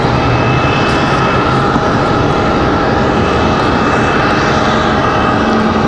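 A Breeze Airways airliner arriving from Ohio at Raleigh-Durham airport makes a loud, continuous jet roar, close and unbroken for the whole stretch.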